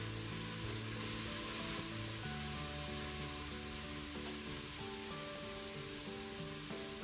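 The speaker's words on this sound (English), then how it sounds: "We just want to give that a good stir to allow it to mix and coat with the oil." Diced aubergine sizzling steadily in hot oil in a Crockpot Express while being stirred, a loud continuous frying hiss throughout with faint background tones, no talk.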